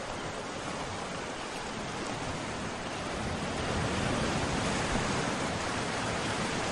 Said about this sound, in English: it's starting to rain now. Actually, this is a shower, a summer shower